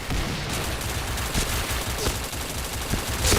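Rapid video game gunfire in dense, continuous bursts of automatic shots, loud and close throughout with no pause.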